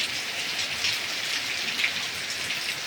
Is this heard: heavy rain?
yes